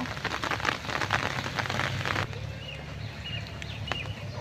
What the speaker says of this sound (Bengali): এই ঘন ঘন বৃষ্টি আসে